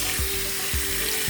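Water runs steadily from a sink tap while hands are rinsed, a close, constant hissing splash with a few soft pulsing bumps underneath and no talking.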